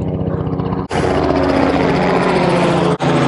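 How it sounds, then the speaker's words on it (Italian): A helicopter passes very low overhead along a mountain road where motorcycles are stopped, a loud, dense rotor and engine roar filling the air, broken by two brief gaps. "Un elicottero."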